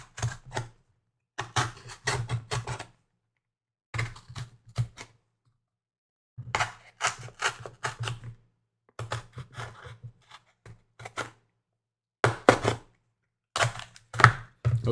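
Something is cut out along a traced outline for an animatronic build: bursts of rapid crisp snipping, close and fairly quiet, separated by silent pauses, with no one talking.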